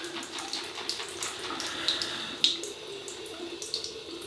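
Tap water runs steadily at close range to wet a hard Shetland Soap Co Norseman shaving soap puck, a soft continuous hiss with a few small splashes and drips over it.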